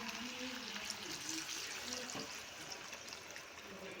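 Water poured onto spiced chicken in a pot for Iraqi tashreeb, a soft continuous trickling pour, faint and close, with a low murmur of talk.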